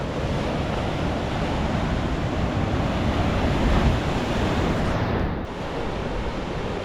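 Ocean surf breaking at a beach break on South Africa's Garden Route, a loud, continuous roar of crashing waves and rushing foam with wind buffeting the microphone and no voices.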